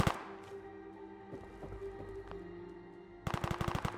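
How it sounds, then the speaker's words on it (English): Modded guns firing in the Fallout 4 game, a rapid rat-tat-tat burst of automatic fire with dense, loud repeated shots near the end, after quieter game ambience. "Hear the rat-tat-tat of modded guns."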